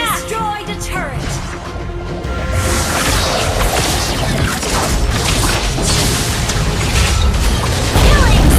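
In a video game, a turret is destroyed with a loud booming explosion and crashing debris, the blast sustained over several seconds amid dense game effects, with an announcer voice at the start.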